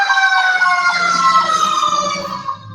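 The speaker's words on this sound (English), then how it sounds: "Let's let the fire truck go by." Fire truck siren wailing loud and close as the truck drives past, its tones sliding slowly downward with engine rumble underneath.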